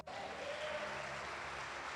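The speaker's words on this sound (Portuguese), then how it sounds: "aplauda o Senhor Jesus" Church congregation applauding during a Brazilian Evangelical worship service, a steady, dense wash of clapping that fills the whole stretch without pause, with a faint sustained tone beneath.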